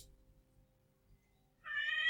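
After a near-silent stretch with faint low rumbling, a cat lets out one clear, drawn-out meow close by.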